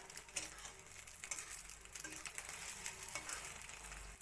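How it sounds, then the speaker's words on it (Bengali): An egg roll fries in a pan with a faint, steady sizzle, broken by light scraping and ticking of a spatula nearby. "লাল করে ভাজা করতে লাগবো এটা রোলটা"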